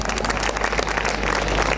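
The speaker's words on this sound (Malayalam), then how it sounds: "എല്ലാവരും വലിയൊരു കൈയടി വെച്ച്" Audience clapping at a school event, a brief burst of steady applause from a crowd, moderately loud and alone.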